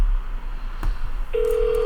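Telephone keypad dialing tones calling a number, a few short distinct beeps followed by a longer sustained tone, heard alone and close.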